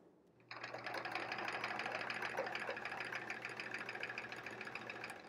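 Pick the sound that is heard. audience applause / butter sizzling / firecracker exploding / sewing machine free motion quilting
sewing machine free motion quilting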